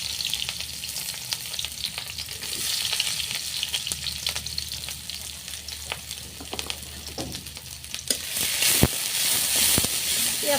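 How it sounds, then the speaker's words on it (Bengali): Onion, green chili and garlic sizzle in oil in a kadai over a village clay stove, a close, steady fry crackle broken by repeated scraping stir strokes, growing louder toward the end. "পেঁয়াজ কাঁচামরিচগুলো আমি ভালোভাবে ভেজে নেব।"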